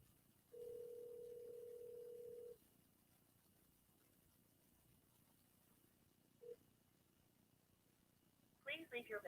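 An unanswered telephone call heard through the handset, one long steady ring tone of about two seconds, then a faint short blip, over quiet background hiss before a brief burst of other sound.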